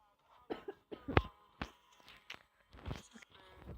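A series of short, harsh coughs from someone with a cold, close up, spaced irregularly over a few seconds with no talking.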